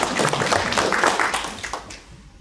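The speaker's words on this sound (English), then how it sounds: "Give him a round of applause, ladies and gentlemen." Live audience applauding at a talk event, a dense steady patter of many hands clapping up close that fades out toward the end.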